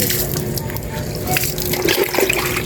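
Water is poured and splashes steadily while a pet dog is bathed, a continuous close gush with slight surges toward the end.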